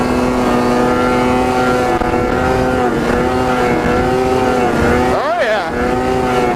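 A snowmobile engine revs hard in a wheelie attempt after a snowstorm, a loud sustained whine that dips briefly near the end then climbs again, close and continuous.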